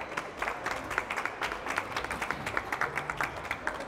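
An audience at a World Psoriasis Day health event claps as an official is introduced, a moderate round of applause with distinct individual claps audible, somewhat distant and even.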